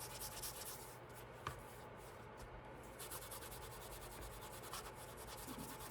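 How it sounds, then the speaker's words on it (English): A leather bifold wallet is rubbed down by hand, giving a steady, faint, close scratchy rubbing with soft repeated strokes and small taps. "Get those all wiped off and rubbed down"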